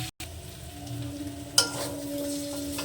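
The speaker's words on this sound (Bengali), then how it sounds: "এবার এখানে আমি দিয়ে দেবো সিদ্ধ করে রাখা আলু এবার সুন্দর করে নেড়ে চেড়ে কষে নেব" Boiled potatoes with spices are stirred and sautéed in a pan over low heat, giving a quiet, continuous sizzle with a single sharper scrape partway through.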